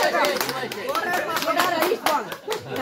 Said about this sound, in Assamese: একবাৰ হাত তালি দিলি ভাল পালো